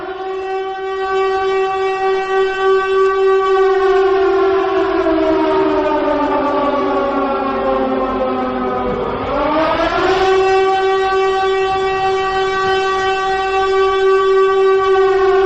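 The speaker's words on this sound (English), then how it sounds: "You don't know what the siren means, guys." A loud civil-defense-style siren wails continuously at close range, its pitch slowly sagging, dipping sharply, then climbing back to a steady high tone, with no voices.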